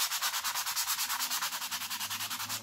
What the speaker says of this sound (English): I just use 20 grit sandpaper or 220 grit sandpaper, sorry, and I just scuff up the surface